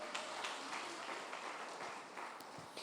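Congregation applauding during a church service, a steady wash of clapping that sounds somewhat distant and moderately quiet, with no voices clearly rising above it.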